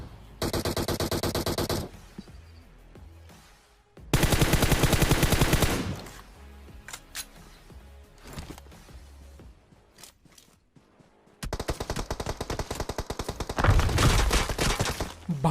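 Bursts of gunfire from a fight in the mobile battle royale game PUBG Mobile, with rapid automatic volleys in three main loud stretches separated by quieter gaps holding footsteps and small in-game noises.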